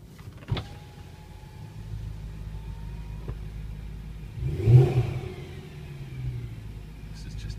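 A BMW M3 V8 Limited Edition 500 with a race exhaust rumbles as it accelerates gently while reversing into a tunnel, a low steady engine note swelling midway, with a few clicks and faint talk.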